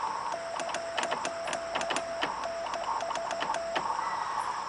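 Morse code CW keyed by a radio amateur calling CQ test during a contest: a steady single tone pulses in dits and dahs over hissy, crackly band noise, moderately loud with no talk.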